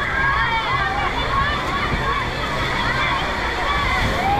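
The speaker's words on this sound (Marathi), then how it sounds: "हे पाणी पडतं ते जाम भारी वाटतं एकदम" Water pours and splashes continuously beside a wave pool at a waterpark resort, a loud close rushing torrent under a nearby voice talking.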